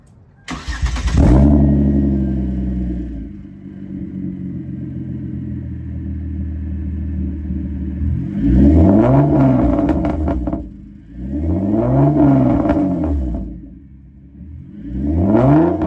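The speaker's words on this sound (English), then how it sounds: "Maybe do a little, a couple baby revs." A 2010 Hyundai Genesis coupe with the 3.8 engine starts with a sharp crank, settles into a steady idle, then gets three short blips of the throttle, each rev climbing and falling back, loud and close with no talk.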